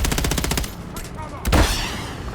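Rapid automatic gunfire from a multiplayer military shooter match in Hardpoint mode, a fast burst of evenly spaced shots followed by a single louder blast, close and dominant over faint game voice chatter.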